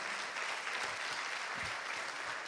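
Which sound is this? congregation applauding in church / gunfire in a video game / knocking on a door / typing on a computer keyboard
congregation applauding in church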